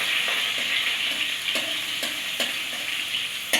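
Chili, whole cumin, chopped tomato and asafoetida sizzle steadily in hot oil as they are stirred, a continuous close frying hiss broken by a few sharp spatula scrapes and clicks, with no talking.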